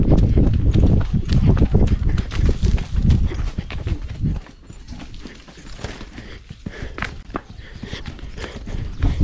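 Horse hooves clip-clopping steadily and close while cattle are herded to pasture, a brisk continuous rhythm of thuds over rustling ground noise that eases slightly midway.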